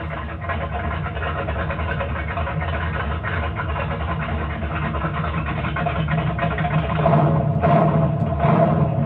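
A 1960s Ford Falcon Ranchero engine idles with a steady, throaty mid-low rumble, close and continuous, swelling a little louder near the end.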